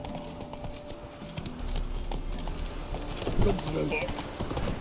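Roach, the horse in The Witcher 3: Wild Hunt, gallops with fast, continuous hoofbeats under a man's speech and game sounds, a short whinny-like burst partway through.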